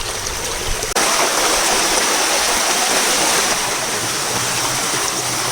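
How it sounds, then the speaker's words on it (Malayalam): Water pours out of Madakkulam Cave in Kannur as a loud, close, continuous rushing stream, a dense steady roar with no voices over it. "ഇത് ഗുഹയിൽ നിന്ന് ഒഴുകി വരുന്ന വെള്ളമാണ്."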